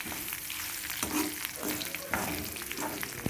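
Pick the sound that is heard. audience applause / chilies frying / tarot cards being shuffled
chilies frying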